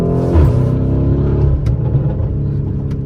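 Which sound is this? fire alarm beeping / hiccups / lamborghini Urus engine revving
lamborghini Urus engine revving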